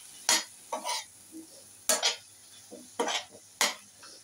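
Potatoes for capsicum batata masala bhaji are stirred in a pan, with five or six distinct metallic scrapes and clacks of a spoon over a faint sizzle, close and otherwise quiet.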